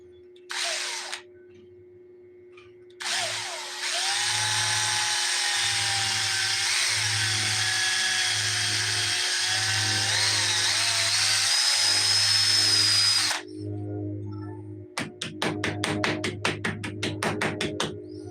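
A power drill bores into silicone with a long, steady high whine under a pulsing low hum, stops briefly, then ends in rapid stuttering bursts, close and loud with no talking.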